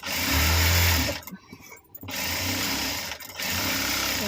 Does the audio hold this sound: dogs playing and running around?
no